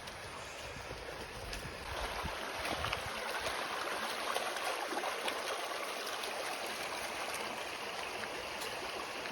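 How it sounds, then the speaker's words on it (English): Lovely creek at Curtis Creek, a popular camping spot, babbling and flowing steadily in a broad continuous wash of water noise that swells slightly after the first two seconds and carries on alone with no voices. "you have the lovely creek."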